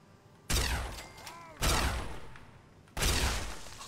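Three heavy, booming gunshots from a powerful gun in the Fallout 3 video game, evenly spaced about a second apart, each with a long decaying tail.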